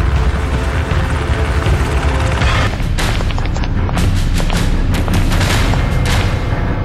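A helicopter hovers low over a compound during a commando raid re-enactment, a loud, steady rotor roar with heavy low rumble and repeated sharp booms and bursts layered on top, no voices.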